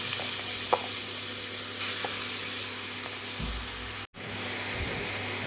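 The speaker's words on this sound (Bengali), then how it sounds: "এবার আমি একটু নেড়ে নেব।" Grated papaya frying with dried red chilli, bay leaf and cumin seeds, giving a constant close sizzle and hiss with a few faint stirring taps and one brief silent gap near the end.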